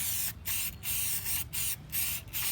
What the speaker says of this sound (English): You're gonna spray it about 3 inches away from the filter.